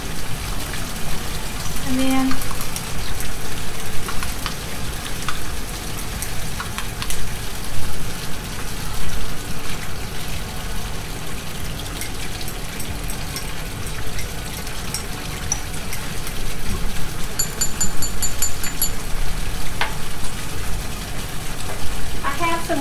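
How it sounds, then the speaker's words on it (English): Water runs steadily from two lab faucets driving a vacuum filtration setup, a continuous rushing gush that stays even throughout, with a person speaking briefly over it. "we're going to turn on, typically you only turn on one faucet, but for us we need two"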